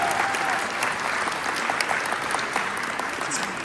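Audience at a live real-estate seminar clapping in a steady, dense burst of applause, fairly distant and even throughout.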